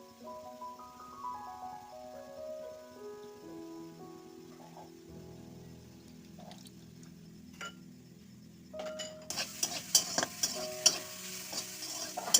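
Drumstick flowers being stirred and fried in a pan for a pickle, giving a soft sizzle with scraping stir strokes, then louder crackling and spoon clatter toward the end, close and without speech.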